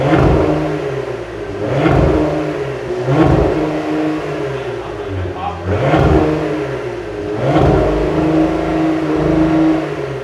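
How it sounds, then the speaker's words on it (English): 2020 Cadillac CT5-V engine and exhaust revving about five times in a steady rhythm, each rise swelling loud and close before dropping back to idle. "speaking of exhaust, let's hear how this thing sounds."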